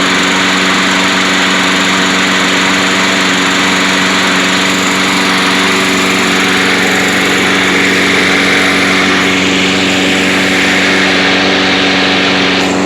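A Troy-Bilt 6.75hp self-propelled lawn mower engine runs steadily, a loud, close, continuous droning hum that holds an even pitch for the whole stretch, with no voices.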